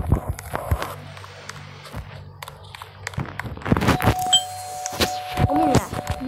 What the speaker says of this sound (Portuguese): não é pra tocar a campainha